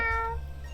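A street cat in the video game Boyfriend Dungeon gives a single short, clear meow, close and tonal, fading quickly over a low background hum.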